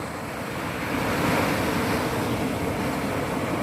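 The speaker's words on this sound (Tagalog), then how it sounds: "Alon dito sa amin, normal lang po sa amin." Steady roar of ocean waves breaking nearby at high tide, a continuous heavy wash of surf with wind buffeting the microphone.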